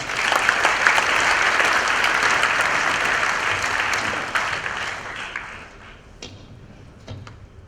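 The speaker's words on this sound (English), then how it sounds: "perhaps we can clap for him in absentia" Audience applause at the ITS World Congress 2015 closing ceremony in Bordeaux, a loud sustained clapping from a large crowd that gradually thins and fades toward the end.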